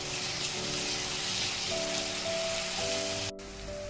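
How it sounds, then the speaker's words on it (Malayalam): Onions sautéing in a pan with turmeric, salt and ginger-garlic paste give off a steady, close sizzle with a continuous crackle and a faint hum underneath, briefly cut short near the end. "അപ്പോൾ ഇനി ഇത് നന്നായിട്ട് വഴറ്റി കിട്ടണം."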